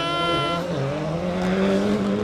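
Dirt trial rally car accelerating hard on a loose-surface course, engine revving loudly with shifting harmonic pitch and a gear change early on, steady and close throughout.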